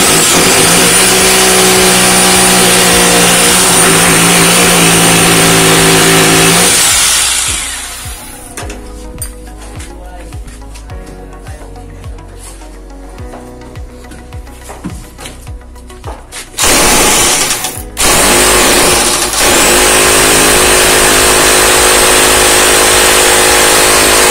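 A power drill bores holes in a wall for mounting window grills, a loud whining roar that runs steadily for several seconds, drops into quieter clatter and knocking, then surges again briefly near the end.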